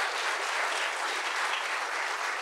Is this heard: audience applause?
yes